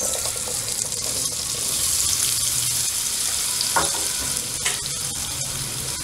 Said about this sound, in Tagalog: Susunod po natin iprito ang patatas.